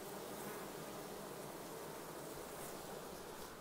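Honey bees crowd a hot hive entrance, some bringing in pollen, making a dense, continuous buzzing drone that stays steady and fairly faint throughout, with no voices.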